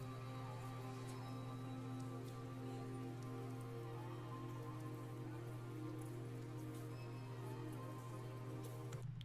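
Rain sound sample named Rain in Florida: a steady, dense hiss of rainfall with constant patter, continuous and even throughout, under a low sustained musical drone.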